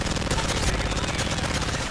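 Dense, continuous automatic gunfire from Call of Duty: Modern Warfare 3 gameplay, loud and busy with overlapping rapid shots throughout.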